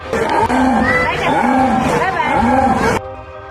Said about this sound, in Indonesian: Sementara suara jaguar agak mirip seperti macan tutul.